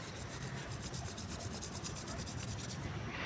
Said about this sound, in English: Slowly rub your hand